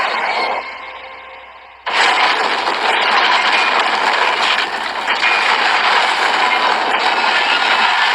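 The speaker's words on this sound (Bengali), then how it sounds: "ভাই ট্রেন খুব জোরে যাচ্ছে।" A train comes through at speed: a faint low hum gives way after about two seconds to a sudden, loud, sustained roar of engine and rolling wheels that holds steady with a slight dip midway.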